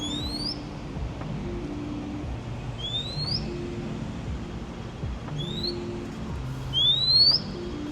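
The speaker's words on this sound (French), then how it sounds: "Écoutez-moi cet oiseau, il a un cri super strident." A small, sparrow-sized bird in Hong Kong gives repeated very shrill, thin upward-sweeping calls, four sharp notes spaced a couple of seconds apart over low city rumble and faint background noise.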